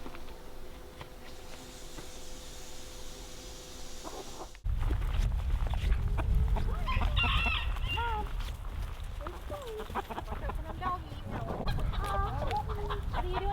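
Hens and roosters in a chicken coop cluck and call close by, a continuous busy chorus that grows livelier after a brief quiet start.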